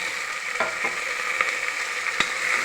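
Onions sauté in a hot pan with a steady, bright sizzle throughout, broken by a few sharp clinks and scrapes as a spoon stirs them.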